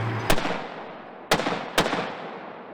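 Military weapons boom in a live fire demonstration of maneuver warfare, three sharp blasts spaced over a few seconds, each trailing off into a long rolling echo across open ground.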